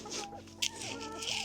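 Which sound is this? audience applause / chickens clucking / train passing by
chickens clucking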